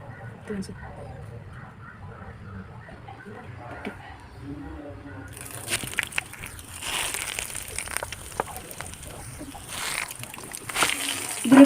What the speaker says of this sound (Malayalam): വെളിച്ചെണ്ണ ചൂടായിട്ടുണ്ട് അതിലിട്ട് കൊടുക്കാം കേട്ടോ